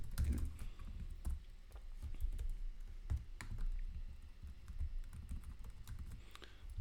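Quiet, steady typing on a computer keyboard, with irregular rapid key clicks and occasional heavier taps continuing throughout, no voices over it.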